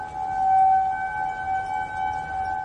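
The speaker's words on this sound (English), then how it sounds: "They are not tornado sirens, they are outdoor warning sirens." A steady, droning outdoor warning siren, used for severe weather, sounding from a distance, its tone swelling and fading slightly as it carries.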